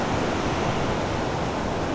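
Ocean waves rolling in at Dollar Cove, Cornwall, a steady close wash of surf noise with no break, loud and continuous for the short stretch.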